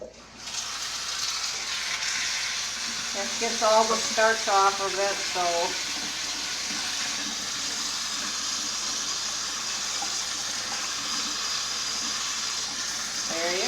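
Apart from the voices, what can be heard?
cold water running over drained noodles in a strainer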